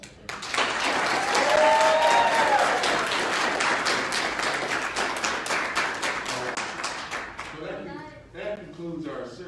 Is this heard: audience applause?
yes